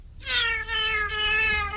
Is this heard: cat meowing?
yes